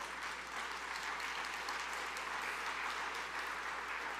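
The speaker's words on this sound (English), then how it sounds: "I'm glad you're clapping" An audience claps steadily and evenly, a dense wash of many hands sustained without a break, no voices over it.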